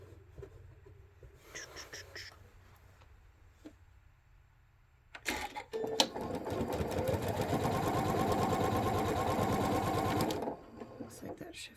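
A sewing machine stitches quilt pieces for traditional piecing, running in a steady fast rattling burst for about five seconds after quieter handling noises and brief speech, then stopping.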